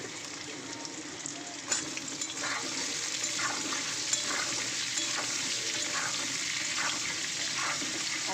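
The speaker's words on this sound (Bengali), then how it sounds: "আর দিয়ে দেবো এই যে কেটে রেখেছি আলুগুলো ফোড়নের সঙ্গে দিয়ে আলুগুলো প্রথমে একটু লাল লাল করে ভাজবো" Cut potatoes frying in hot oil with tempering spices in a pan, a steady close sizzle broken by repeated scraping stirs of a spatula, with no talking.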